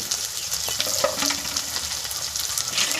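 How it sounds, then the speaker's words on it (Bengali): Village-style chicken curry base with green chillies and chopped tomato frying in a pan: a loud, close, continuous sizzle with stirring scrapes throughout. "দিয়ে আর একটু ভেজে নেব"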